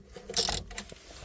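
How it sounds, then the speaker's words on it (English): A small ratchet driving a 10mm deep socket loosens a car battery terminal nut on a Jaguar, giving a brief burst of quick metallic clicks, close and fairly quiet. "I'm using small ratchet and 10mm deep socket, and I'm just gonna loose this"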